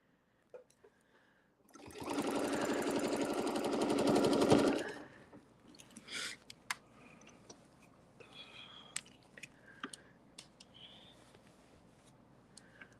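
Domestic sewing machine stitching in the ditch during ruler quilting, a loud close rapid hum of stitching lasting about three seconds, followed by quiet clicks and handling noises of fabric and ruler.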